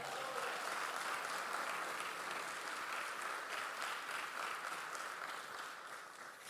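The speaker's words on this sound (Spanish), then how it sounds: "Da un aplauso al Señor" A church congregation applauds the Lord during a Spanish-language sermon on forgiveness, a steady wash of many hands clapping that holds for several seconds and eases slightly at the end.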